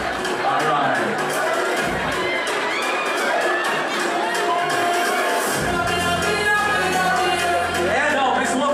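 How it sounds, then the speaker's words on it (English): A crowd at a Miss Asenso Ozamiz 2026 pageant screening in a Gaisano Capital Mall cheers and claps for a candidate. The noisy din of shouts and applause fills the space continuously, with voices mixed in throughout. "Let's give her a round of applause."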